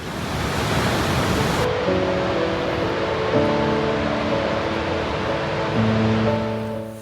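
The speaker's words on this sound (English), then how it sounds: "it's a majestic and powerful waterfall" Gullfoss, a powerful waterfall in Iceland, sends up a steady, loud, close roar of rushing water that holds for the whole stretch, with some faint tonal sounds layered over it.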